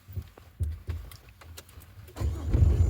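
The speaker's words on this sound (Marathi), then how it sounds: "आता गाडी क्लच दाबून चालू करायची" A manual car starts with the clutch pressed and the handbrake on, a few soft clicks and shuffles first and then the engine catching and rising into a low, close rumble.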